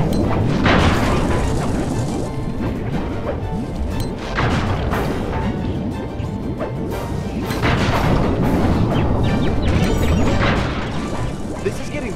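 Repeated bomb blasts from the Sly 3 video game blow up tar pipes, loud booms and crashing debris layered over busy game music and effects, with a voice talking at points throughout.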